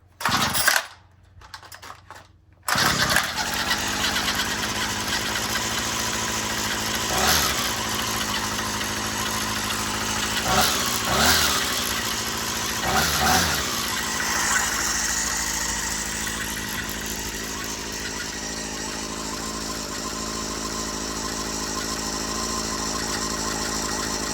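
A string trimmer engine starts cold on the first pull, then runs at a steady buzzing idle with brief revving surges, close and loud throughout.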